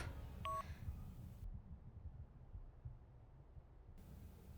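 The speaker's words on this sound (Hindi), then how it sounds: "ये राहुल का फोन क्यों नहीं लग रहा?" A short burst of phone tones, then a low repeating hum on the line with no answer, ending in quiet.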